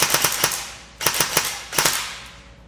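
G&G GK12 airsoft rifle with a Mosfet and ETU trigger firing three quick bursts of sharp mechanical shots, each burst a rapid clatter of four or five rounds separated by brief pauses, close and loud with no talk.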